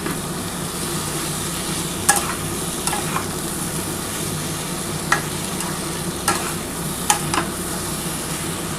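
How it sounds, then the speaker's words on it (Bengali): Spice paste stir-fried in a pan for a vegetarian soybean curry with potato and papaya, a steady close sizzle with occasional scraping clicks of the spatula, no talking. "আগে প্রথমে খুব ভালো করে কষিয়ে নিচ্ছি।"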